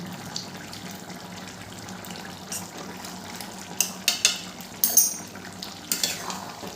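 Ghee and garam masala being stirred into a jackfruit curry in a pan, with a steady soft sizzle and several sharp scraping stirs of the spoon later on, close and with no talking.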